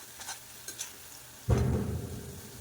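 Drumstick curry ingredients hit hot oil with a sudden sizzle about halfway through, followed by a steady, close frying hiss. A few faint clinks come before it.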